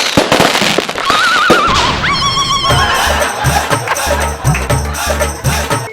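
A firecracker bomb goes off during a comedy stage skit, with sharp loud cracks in the first second, then shrill whistling tones and a rhythmic thumping beat.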